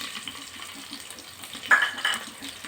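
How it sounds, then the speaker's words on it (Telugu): Onions and green chillies sizzle with cumin seeds in a hot pan for rice, a soft crackling fry close by with a couple of brief louder stirring scrapes near the end. "ఈ జీలకర్ర వేడయ్యాక ఇందులో ఆనియన్స్ అండ్ పచ్చిమిర్చి ఇలా పెద్దగా కట్ చేసుకున్న ఇవన్నీ"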